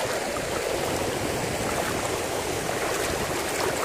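A strong, fast-rushing stream current, loud and continuous broadband water roar close by, steady throughout with no voices.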